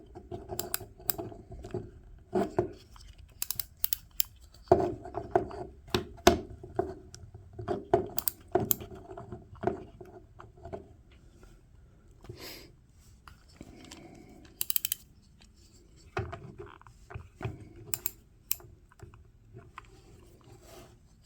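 Drag knob being turned and handled on an Abumatic 136 spincast fishing reel from around 1969: scattered small clicks and ratcheting ticks close up, irregular, with quiet pauses between bursts.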